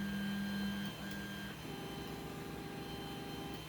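Anycubic Mega Zero 3D printer homing its print head, steady buzzing stepper-motor whine that shifts pitch partway through as the axes change, close and continuous with no voices.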